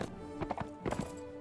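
Horse hooves clip-clop in Mount & Blade Warband, a lame horse in a Lord of the Rings mod, with a few soft, uneven hoofbeats at low level.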